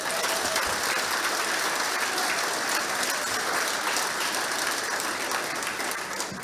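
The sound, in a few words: audience applause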